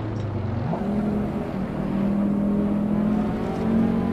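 Fiat Marea Turbo engine in Assetto Corsa, 170 horsepower, droning steadily and rising in pitch as it revs through a shift, continuous and close with no talk over it.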